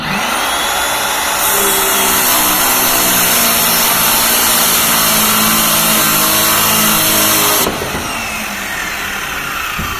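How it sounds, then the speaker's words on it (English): A battery-powered Ryobi saw fitted with a Diablo blade whines loudly at full speed while building a tomato bed, spinning up after a moment and running steadily for about six seconds before cutting off abruptly. "I'm running a Diablo blade on a Ryobi, battery operated."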